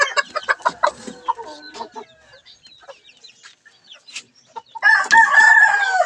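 Chickens, including a young rooster about four months old, cluck and call repeatedly in a breeding coop, ending with a loud, close crow.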